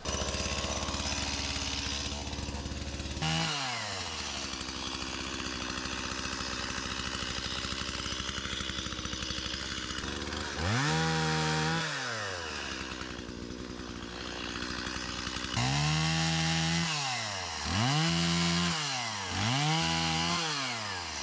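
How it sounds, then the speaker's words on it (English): A chainsaw cutting a fallen tree on a woodland trail starts up and revs in repeated loud bursts, its engine whining high then dropping back to a rough idle between cuts. "I'm going to fire up the chainsaw and do it right."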